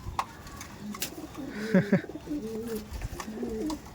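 Pigeons cooing in a loft where birds are kept for sale, several soft, low rolling coos close by over a background of rustling and faint chirps.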